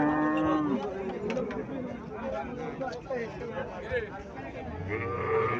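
A Friesian dairy cow lows at a cattle market while being shown to a buyer, with a low moo audible near the end amid steady, busy human chatter and crowd noise.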